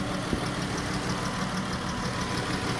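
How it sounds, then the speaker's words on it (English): A Dodge Chrysler engine with a misfire idles roughly and steadily, loud and close, with an uneven knocking pulse running through the whole stretch; no speech. "I got a misfire somewhere, guys."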